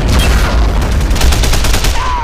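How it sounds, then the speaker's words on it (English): Howitzer artillery barrage in the World War II video game Men of War: Barbarossa: a loud, continuous roar of overlapping shell blasts and rumbling impacts, sustained and dense throughout with no pauses. "artillery barrage is opening up on me now. So these are howitzers, these aren't Katyushas anymore."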